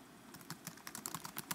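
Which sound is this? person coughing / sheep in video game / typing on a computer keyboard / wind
typing on a computer keyboard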